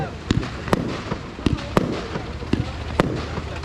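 Fireworks crackle and pop at a 24-hour karting event, with sharp bursts landing at irregular intervals over a steady crowd and engine background, loud and fairly close.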